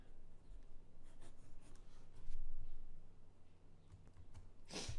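Pen or pencil writing out a math answer, a faint, steady scratching and scribbling of strokes close by, with a brief louder rustle at the end and no talk.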